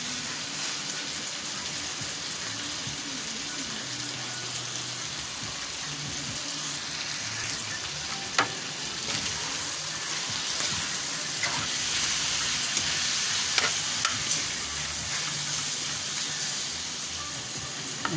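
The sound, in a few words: chicken curry frying and being stirred in a pan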